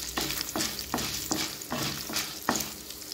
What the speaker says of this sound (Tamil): ஸ்டவ் சிம்லேயே வச்சு வறுத்துக்கலாங்க